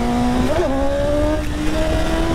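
A BMW S1000 motorcycle engine drones steadily while riding on a highway, with a loud close tone that dips and rises slightly in pitch under constant wind rush.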